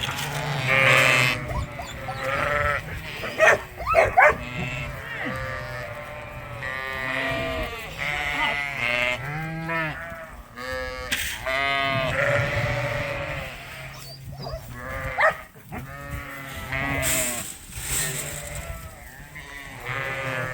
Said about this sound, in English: we decided to let the ewes out and have a little play outdoors